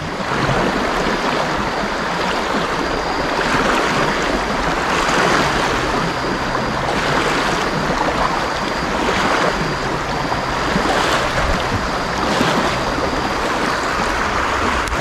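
Loud, steady rush of turbulent water churning over rocks, a continuous broadband roar with no pauses.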